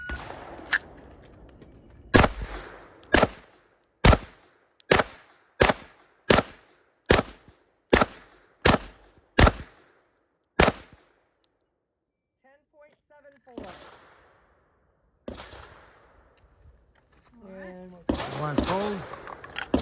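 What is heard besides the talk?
gunshots from a Walther PPQ TAC pistol at the range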